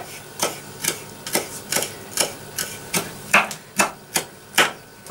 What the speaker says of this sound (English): just keep cutting it until it gets too small that I can't cut it across